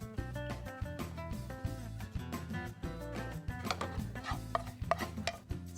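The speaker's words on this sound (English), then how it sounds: "I'm just going to quickly mix this up" Cheddar cheese stuffing stirred together in a bowl, giving a steady series of soft scraping and knocking strokes close by, while music plays throughout.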